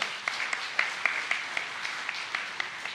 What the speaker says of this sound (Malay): tepukan juga untuk mereka